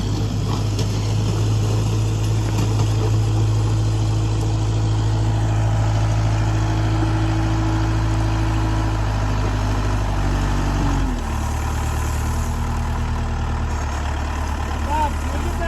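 A tractor engine runs steadily nearby at a job site where a concrete floor is being poured, a loud continuous low drone whose pitch drops partway through as the engine settles to a lower idle.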